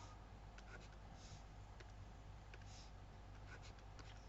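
A pen scratches faintly across paper while someone writes out maths by hand, with soft short strokes and taps over a quiet hiss.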